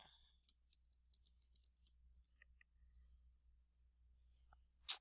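A burst of quick keystrokes clicks up close on a keyboard, followed by a quiet pause, a couple of light taps and one louder final click.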